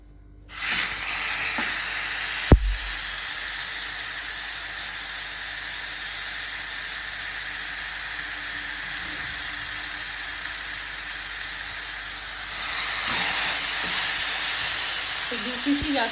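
Chicken pieces for tandoori chicken frying in a pan over a low flame, a steady broad sizzle throughout with a brief clack near the start and a few soft handling sounds, no talk.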